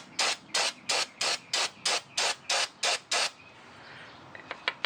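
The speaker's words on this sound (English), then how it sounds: "Spray it a little bit." Ten short, sharp hisses of brake cleaner aerosol spray in a quick, even rhythm during Saturn Ion brake work, followed by a pause and a few faint clicks.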